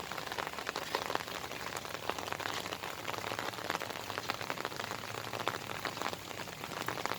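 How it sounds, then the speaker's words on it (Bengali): Steady downpour over a garden of taro and pomegranate plants, close and constant drumming patter of raindrops hitting leaves and surfaces with no pauses. "বৃষ্টির সময় ভিডিওটা ভালো আসে না"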